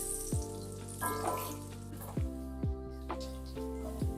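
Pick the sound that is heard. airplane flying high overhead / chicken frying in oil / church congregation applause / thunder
chicken frying in oil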